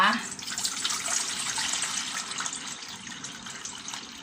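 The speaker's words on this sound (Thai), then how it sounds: "เราเตรียมน้ำใส่กระมังเลยนะคะ" Water pours steadily into a basin, prepared as brine for pickling mangoes with salt, a continuous splashing gush that slowly softens over a few seconds.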